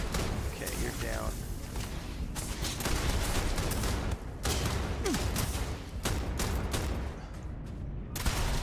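Dense, rapid gunfire from a weapon in the game Starfield keeps up a loud, near-continuous barrage, broken by brief pauses between bursts.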